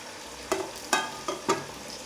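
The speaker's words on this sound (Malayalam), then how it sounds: "ഓയിൽ ചൂടായിട്ട് ആയിട്ടുണ്ട് ഞാനിത് ഓരോന്നിട്ട് കൊടുക്കുകയാണ്" Egg snack pieces drop one at a time into hot sunflower oil in a kadai, giving four quick bursts of splashing sizzle spaced about half a second apart over a soft, steady frying hiss.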